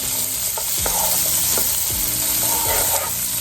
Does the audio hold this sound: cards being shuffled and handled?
no